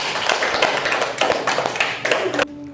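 Schoolchildren in a classroom clapping for their group's representatives, a short burst of uneven claps and taps that stops abruptly.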